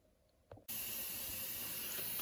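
An Instant Pot pressure cooker loaded with corned beef, cabbage and potatoes vents steam in a sudden loud, steady hiss after a brief click, continuing strongly up close without talk.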